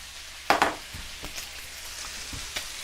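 Chicken nuggets frying in a pan with onions and pepper make a steady, close sizzle, broken by a few soft clatters from the pan.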